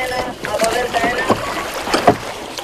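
Oars dip and pull through lake water as scouts row a boat on an outing at Velvento, Greece. Several splashy strokes come through close up, with voices and a little wind around them.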